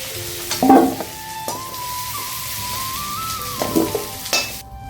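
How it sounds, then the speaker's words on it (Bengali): Pumpkin frying in a pan with a pinch of salt, a soft sizzle with occasional scraping and clinks from stirring, close by, and a steady tone running beneath for a few seconds. "অল্প লবণ দিলাম, কুমড়োটা একটু ভেজে নেব।"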